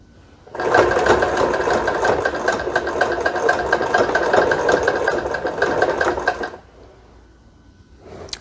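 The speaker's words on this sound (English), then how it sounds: "So I'm just going to use my zigzag settings on my machine to" A sewing machine runs a zigzag stitch across the end of an elastic Ankara fabric headband, giving about six seconds of loud, fast, even mechanical whirring. It starts abruptly and stops abruptly, and a quiet hum follows.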